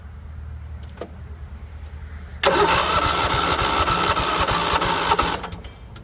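A Craftsman LT2000 lawn tractor engine cranks loudly in a sustained churning burst for about three seconds, then cuts out, preceded by a faint low hum and a couple of clicks.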